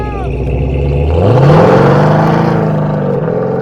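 FFR 33 hot rod at 20% throttle, close and loud, engine revving up in a rising sweep and roaring off as it spits rocks, with a steady heavy drone after the launch.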